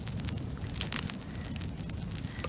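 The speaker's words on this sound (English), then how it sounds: "Once you hear that crackling, that's a good sound." A small twig fire crackles in a camp stove out in the snow, giving dense, steady popping and snapping close up, with no voices.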